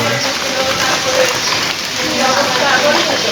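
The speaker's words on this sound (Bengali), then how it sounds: "এখনো বৃষ্টি হচ্ছে" Rain falling outside on a winter night, a dense steady wash of drops hitting surfaces, loud and close without pause, with voices faint underneath.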